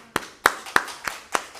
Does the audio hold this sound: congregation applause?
yes